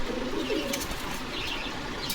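Giribaz pigeons at a pigeon farm in Bogura, with soft low cooing and a few wing flutters heard close up against steady background noise, no talking.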